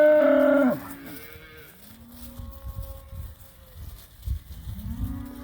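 Cattle bawling in a paddock: one loud, close, drawn-out moo opens, then fainter, lower calls from the herd rumble on in the background.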